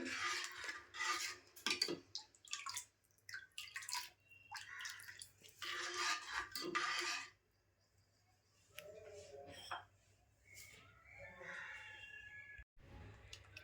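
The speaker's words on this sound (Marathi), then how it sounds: "आता याची अशी थोडा वेळ डवळत राहायची घट्ट होईपर्यंत गॅस कमी जास्त करून" A utensil stirs a thick Malvani horse gram flour mixture in a pan on the stove, with repeated scraping and clinking in uneven bursts, close and fairly quiet, then a quieter stretch of lighter taps.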